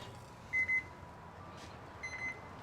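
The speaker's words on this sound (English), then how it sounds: "The alarm's going off again because now it's getting hot." Faint electronic beeps from a cooking thermometer alarm sound in two short bursts, a pause between them, over a quiet background hum.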